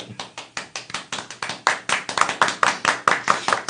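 A single person claps live in a steady, even rhythm, about four or five crisp hand claps per second, close and fairly loud, with no talking over them.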